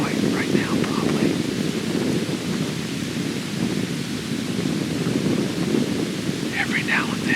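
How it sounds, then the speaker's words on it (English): Strong wind of about 15 to 20 mph buffets the microphone on a morning deer hunt, a loud continuous rumbling roar that barely lets up. "it's just a constant 15 mile an hour wind in my face"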